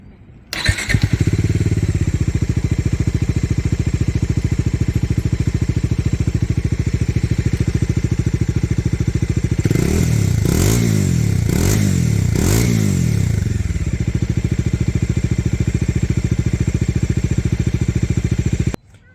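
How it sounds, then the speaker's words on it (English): Bajaj Dominar 400 motorcycle idling steadily from a cold start, close and loud, with a cluster of three or four sharp throttle blips in the middle before settling back to a rumbling idle. "That's the exhaust note of the bike"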